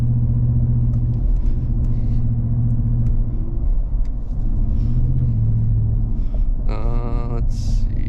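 Ford F-150 pickup truck engine driving through snow, a steady low rumble throughout, with a brief whirring sound near the end.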